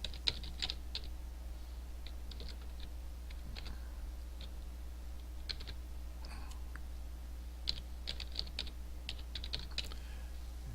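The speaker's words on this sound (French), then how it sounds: "Je tape mon adresse Internet." Typing on a computer keyboard to enter a web address while logging in, with scattered bursts of light clicking keystrokes over a steady low hum, no talking.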